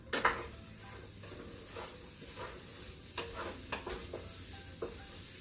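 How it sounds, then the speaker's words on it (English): Onion, garlic and eggplant cooking in a pan on a home stove, a soft low sizzle with occasional clinks and scrapes of a utensil stirring against the pan, close and fairly quiet. "we've got our onion, garlic, and eggplant cooking on the stove here"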